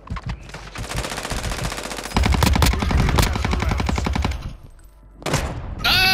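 Gunfire in Call of Duty: Modern Warfare II, sustained rapid automatic bursts of loud shots layered with other weapon fire, easing off briefly before a final sharp volley.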